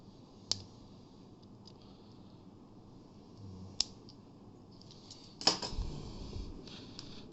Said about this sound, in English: Let's just get this plastic off.